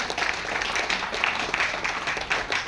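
Audience applause at a company business training event, a continuous hiss of many hands clapping together at a fairly even level, heard alone for a few seconds.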